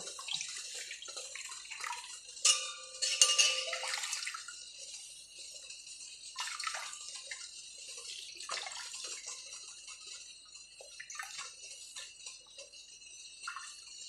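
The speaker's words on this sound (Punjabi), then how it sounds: "ਇਹ ਦੁਪੱਟੇ ਨੂੰ ਆਪਾਂ ਇਹਦੇ ਵਿੱਚ ਗਿੱਲਾ ਕਰ ਲੈਣੇ ਆਂ ਦੇਖੋ ਇਹਨੂੰ ਆਪਾਂ ਨਿਚੋੜ ਲੈਂਦੇ ਚੰਗੀ ਤਰ੍ਹਾਂ" A dupatta is soaked in tie-dye water and wrung out by hand at home, with faint splashing, trickling and dripping as liquid is squeezed from the cloth, quiet and close.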